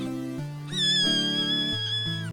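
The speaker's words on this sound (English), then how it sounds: "here's a video of a crying kitten with sad music playing to get the point across" A crying kitten meows plaintively and loudly up close, with a few drawn-out, wavering cries over a steady tonal background of sad music.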